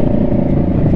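Kawasaki Vulcan 650S motorcycle exhaust, a close, loud, throaty engine rumble running steadily for a second.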